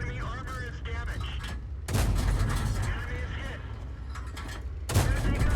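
Tank cannon fire in a World of War-style tank battle game, including an M10 RPFM: loud booming shots burst in at intervals over continuous battle rumble, with sharp heavy blasts near two and five seconds.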